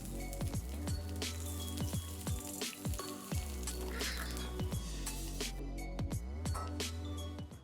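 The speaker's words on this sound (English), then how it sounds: "After pouring the hot oil in the pan on it" Hot oil crackles and sizzles on beef tenderloin in a cast iron pan, dense rapid popping and spitting that stays steady and close for several seconds with no voices.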